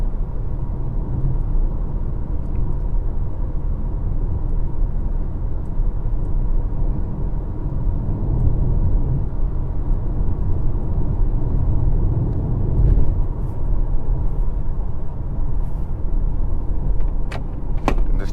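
A 2022 Hyundai Kona N Line with a 7-speed dual-clutch gearbox drives along, its engine and road noise forming a steady loud rumble heard from inside the cabin, swelling as it accelerates, with a few faint clicks and no talk.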